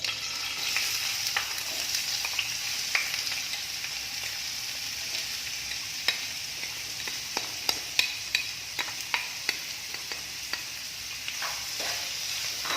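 Onions sizzle steadily in hot oil in a pan for an Iftar spicy chicken cake, a continuous close frying hiss broken by scattered sharp pops and crackles, with no voices.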